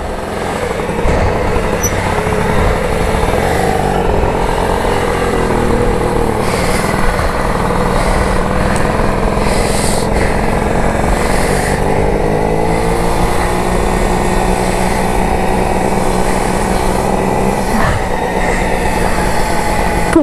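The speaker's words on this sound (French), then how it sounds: "aujourd'hui on roule en petite mobylette" A small moped putters along on a ride, its engine drone steady and fairly loud with shifting pitch as it accelerates and eases off, joined by wind and road rumble throughout.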